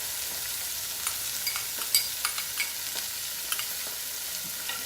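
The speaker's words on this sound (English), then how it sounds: "So I just want to cook this until that hamburger is all browned" Ground hamburger browning in a pan with diced onion and green pepper gives a constant sizzle broken by short scraping stirs and small clacks.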